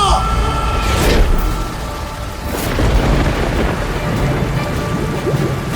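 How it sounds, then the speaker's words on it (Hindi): Thunder and rain in an animated village story about a five-headed serpent rising from a pond, with a steady rain wash under sharp thunder cracks near the start and middle. "अचानक जोर की बिजली कड़की"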